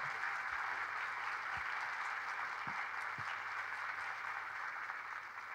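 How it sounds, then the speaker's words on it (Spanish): An audience at a presentation event in Argentina applauds, a dense, continuous wash of clapping heard somewhat distant and faint, with a few low thumps underneath. "Fuerte ese aplauso, muy fuerte ese aplauso."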